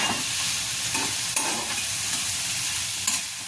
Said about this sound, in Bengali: ফিলেটগুলো দিয়ে খুব হালকা হাতে নাড়তে হবে, দিয়ে সবগুলো নেড়ে নেব।